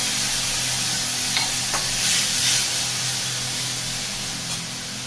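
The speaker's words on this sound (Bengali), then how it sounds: "হলুদ গুঁড়ো, জল দিয়ে দেবো যাতে মশলাটা না দিয়ে যায়।" Spices with turmeric powder and a splash of water hit a hot pan, giving a loud, steady close sizzle and hiss that runs the whole time with slight stirring scrapes and no voices.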